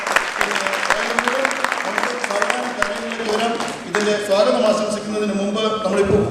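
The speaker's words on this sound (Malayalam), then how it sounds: "നിറഞ്ഞ കയ്യടിയോടെ നല്ലൊരു തുടക്കമാണ്" An audience at a 2016 agricultural harvest festival gives sustained applause, with a dense patter of many hands clapping at once and voices mixed in beneath it.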